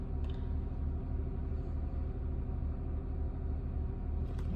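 A car engine idles fast just after a cold morning start, a steady, fairly quiet low rumble that holds even throughout with no voices.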